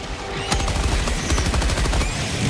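A sentry gun in Helldivers 2 shoots at bugs in a loud, continuous stream of rapid automatic fire, with a distinct sharp report near the start and the barrage carrying on close by.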